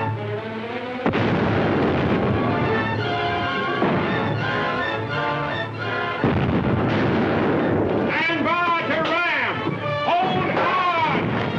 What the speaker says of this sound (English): We'll give them a broadside.